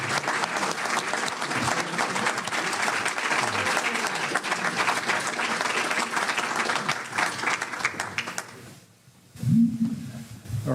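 Sustained audience applause at a congressional district candidate forum, steady dense clapping for most of the stretch before it fades out, followed by a brief low murmur.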